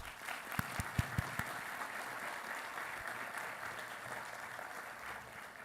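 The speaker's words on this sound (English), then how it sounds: "Please give Jacob a round of applause." Commencement ceremony audience applauding an award recipient, a soft, fairly distant patter of many hands, with a few sharper individual claps standing out early on.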